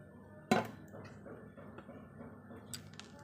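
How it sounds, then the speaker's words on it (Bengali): Cashews and raisins tipped into a pot of basanti pilaf, one sharp clattering impact near the start, then faint soft clinks and rustles against a quiet kitchen background. "তো এখন আমি কাজু কিশমিশটাকে দিয়ে দিচ্ছি।"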